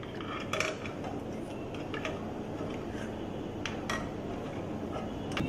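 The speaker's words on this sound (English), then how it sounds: "Now we'll remove these cones into a plate." Baked chaat cones being moved onto a plate, heard as light clinks and taps of utensils against dishware scattered over a low steady background, close but quiet.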